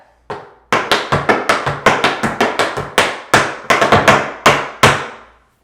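Tap dance shoes on a hard floor doing pull back and ball change steps, a rapid run of crisp loud metallic taps in a steady rhythm, about a dozen strikes, close and alone without speech.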